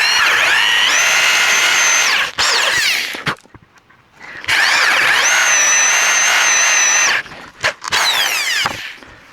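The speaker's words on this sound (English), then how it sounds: "Just going to drill halfway through and then go from the other side" Power drill boring halfway into a piece of wood for a DIY fishing rod rack, two loud sustained drilling bursts with rising and falling motor whine, separated by a short pause and brief clicks.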